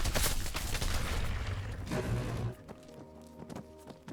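Heavy gunfire and explosive blasts fill a multiplayer SCP shooter match between MTF, Chaos and FBI teams, with a dense burst of loud cracks and booms that drops off, leaving scattered shots and lingering ringing tones.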